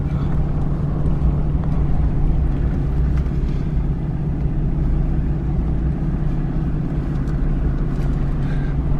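A Ram 3500 Cummins diesel truck crawls down an off-road 4x4 trail, its steady low engine rumble and drivetrain drone continuous and close throughout, with no talking over it.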